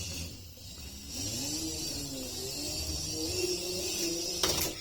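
An RC micro truck drives with quick, twitchy steering, its small motor giving a steady whine and varying pitch through the run, with a brief sharper mechanical rattle near the end.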